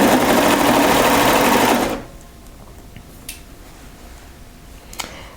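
A sewing machine runs steadily and loudly for about two seconds, stitching a sleeve seam on a French terry sweater, then stops, leaving a quiet room with a few faint clicks.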